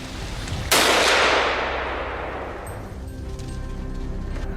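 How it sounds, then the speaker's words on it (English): A single sharp gunshot cracks out while hunting wild boars near a farm, loud and close, its broadband blast decaying into a long echoing tail over steady low background rumble. "A sharp gunshot rang out."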